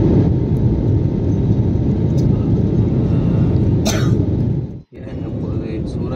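An airplane descending to land at Surat, Gujarat, fills the cabin with a loud, steady engine roar and rumble that continues throughout, broken by a brief dropout near the end.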